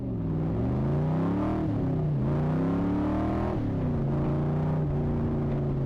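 A car's engine pulls hard while driving, its steady harmonic drone climbing in pitch and then dropping sharply at several gear changes, loud and close with no talk over it.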